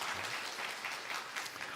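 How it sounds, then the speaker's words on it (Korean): A church congregation applauds together during a Sunday worship service, steady dense clapping filling the room for a couple of seconds with no voices over it. "우리 하나님 앞에 영광의 박수 한번 올리고 넘어갈까요?"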